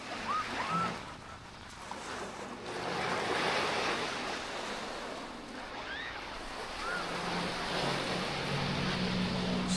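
Waves wash onto Pattaya Beach at sunset, a soft rolling surf swelling and easing with gusts of wind noise against the microphone and a few faint distant calls.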